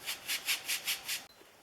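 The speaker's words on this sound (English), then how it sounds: "I'm going to use that old cut off piece of sanding sponge" A sanding sponge rubs the small depth adjustment knob of a Stanley No. 20 1/2 circular plane in six quick, even back-and-forth strokes, close and fairly soft, then stops.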